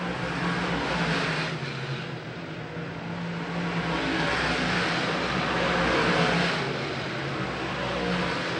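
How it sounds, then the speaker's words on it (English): A big block modified race car drives down the back straightaway of a dirt oval during a Champions Night race, its engine a steady loud roar throughout, with no talk. "Timmy Hindley works down the back straightaway right now, way out front, not looking back, almost a straightaway lead that he has in the number 1 car."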